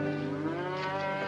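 A single head of cattle gives one loud, close, drawn-out moo with a rich, steady tone, ahead of a cattle drive.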